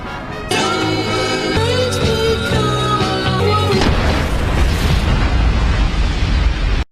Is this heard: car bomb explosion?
yes